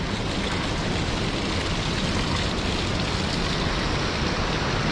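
A mountain waterfall pours down on a forest trek toward the Anusuya Mata temple, a loud, dense, unbroken roar of falling water filling the whole stretch with no voices.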